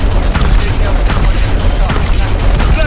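Dense, continuous gunfire from Call of Duty WWII Zombies pounds loud and close in rapid overlapping bursts, with shouted voices mixed into the din.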